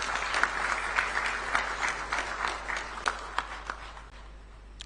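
An audience gives a round of applause for President John Dramani Mahama of Ghana, moderate and steady clapping that thins out toward the end.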